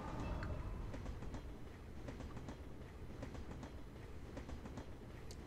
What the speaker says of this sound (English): Got a character just chilling on the train.